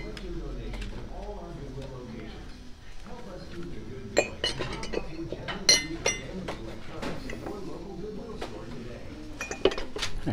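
Glass bakeware dishes clink and knock together while being handled at a Goodwill thrift store, with several sharp, bright clinks scattered over steady nearby talk.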